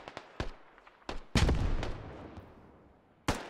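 A grenade explodes in the military shooter Squad, a heavy blast with a long rumbling decay amid several sharp distant gunshots that crack before and after it, with no talking.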